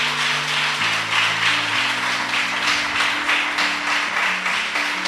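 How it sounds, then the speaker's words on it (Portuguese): A church congregation applauds during a service, a steady wash of clapping sustained for several seconds with held keyboard chords shifting underneath. "Aplaudir Jesus, que ele merece."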